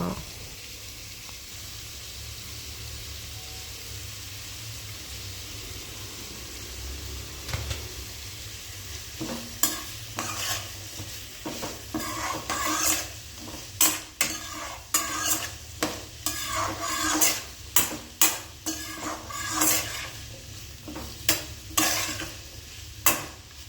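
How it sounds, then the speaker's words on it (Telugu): Onions fry with salt in oil in a pan for an Andhra-style mutton curry. A low sizzle starts quietly, then sharp scraping stirs of a spoon against the pan come in quick bursts, close by, with no voices. "ఇప్పుడు ఆనియన్స్ కొంచెం ఫ్రై అయ్యాయి"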